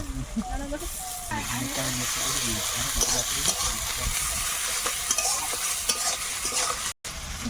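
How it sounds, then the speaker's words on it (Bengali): Garlic goes into onions already frying in oil in a pan, a dense close hiss and sizzle with stirring scrapes, running steadily with faint voices in the background and a momentary dropout near the end. "পেঁয়াজটা একটু ভেজে নিয়েছি এবারে রসুন দেবো"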